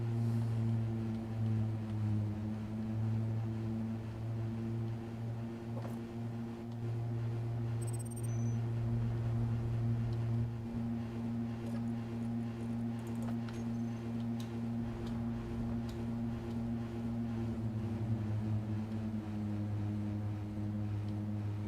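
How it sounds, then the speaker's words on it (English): Steady droning buzz of a damaged ship engine in Space Engineers, rough and lawnmower-like, running continuously under faint ticking and occasional clicks. "right now it just sounds like you've got a lawnmower going over there"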